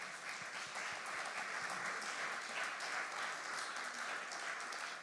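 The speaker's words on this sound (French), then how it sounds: "vous pouvez applaudir." Audience applause at an architects' round table on tiles and bricks, a steady wash of many hands clapping at moderate distance that continues unbroken for several seconds before starting to fade.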